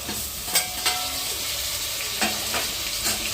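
Tomatoes and meal maker soya chunks fry in masala for a biryani, a steady sizzle broken by a few sharp scrapes and clinks of a stirring spoon against the pot.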